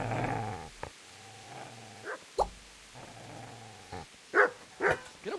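A video game dog growls and barks in short, sharp bursts, with whimpering sounds and a louder cluster of barks near the end, close and alone without talk.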